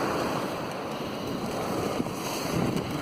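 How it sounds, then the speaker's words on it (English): Strong wind buffets the microphone over crashing surf at North Beach, Great Yarmouth, a dense continuous roar with a few louder gusts. "Wind is savage out there."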